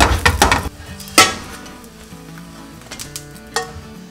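A Korean red bean pancake sizzles steadily in a frying pan, with a few louder scraping and clinking bursts of a utensil against the pan early on and again near the end.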